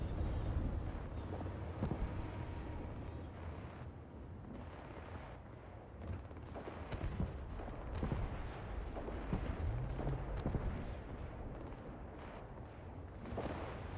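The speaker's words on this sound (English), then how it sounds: "Still hearing gunshots." Scattered video-game gunshots and booms in Starfield go off at a distance over a rumbling, windy background, irregular and muffled rather than sharp.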